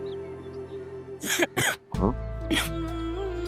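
A few harsh, close coughs and throat-clearing bursts break through a steady low hum, clustered in the middle of a quiet indoor room.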